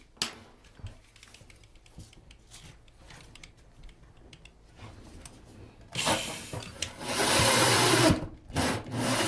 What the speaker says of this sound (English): So now I'll drill through our subfloor.